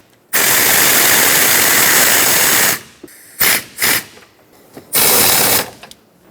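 Air ratchet run-downs on the brake master cylinder mounting nuts of a 2007-2014 Chevrolet Silverado 2500 HD: one long loud burst of about two and a half seconds, then several short bursts, all close.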